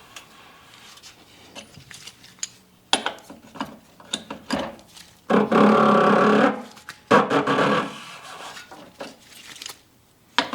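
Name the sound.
ratchet with 28mm socket removing Jeep Ecodiesel fuel filter cap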